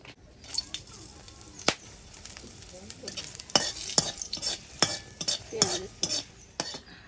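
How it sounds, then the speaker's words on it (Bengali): Dried red chillies fry in a pan, a light crackling sizzle broken by sharp, irregular clicks and scrapes of a spatula against metal, close and busy throughout. "আর আমি তো লঙ্কাগুলো এখন ভেজে নেবো"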